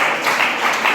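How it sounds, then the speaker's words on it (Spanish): Church congregation applauding during a Spanish-language worship service, a steady, dense wash of clapping filling the whole moment, loud and continuous with no voices over it. "denle un aplauso al más grande y sublime"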